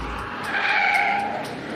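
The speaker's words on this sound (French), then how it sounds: "Oh, le son du moteur est extraordinaire." A Maserati Quattroporte's engine gives a brief, tonal, sustained howl that swells and eases over under two seconds, heard close and fairly loud with no voices.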